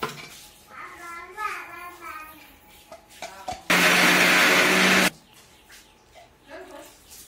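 Brief quiet voices, then a loud mixer grinder grinding masala whirs for about a second and a half before cutting off abruptly.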